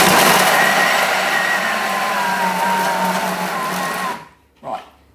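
A Thermomix running at speed 9 chops cob loaf filling with a loud, steady high-pitched whir, then cuts out abruptly near the end, followed by a brief clunk.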